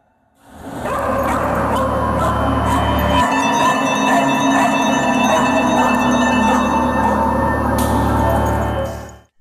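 A sniffer dog searching a car yelps, whimpers and barks in an excited, near and continuous stream of high, whining cries, starting abruptly and cutting off at the end.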